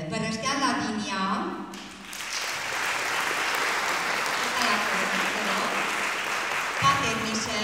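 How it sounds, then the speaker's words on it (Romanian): Audience applause at a student concert as performers are called on stage one by one: a voice speaks over music at first, then broad, sustained clapping from the crowd fills the hall, steady and loud to the end. "vă rog frumos să îi susțineți cu aplauze ca să le dați un pic de curaj"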